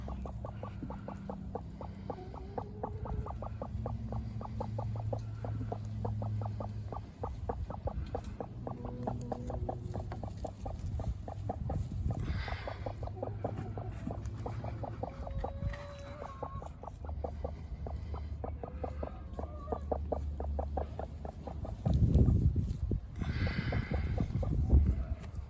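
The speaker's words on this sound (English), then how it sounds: "Hear those little clucky sounds she's making." A broody hen sits on hatching eggs in a coop, giving soft, low, continuous clucks with a few sharper calls near the end, close and steady over a constant background murmur.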